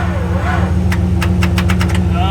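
A custom-built auction car's engine cranks and spins weakly under a steady engine hum, with a quick series of sharp clicks near the end and voices talking over it.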